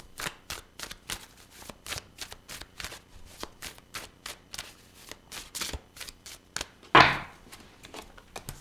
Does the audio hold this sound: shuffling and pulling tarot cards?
yes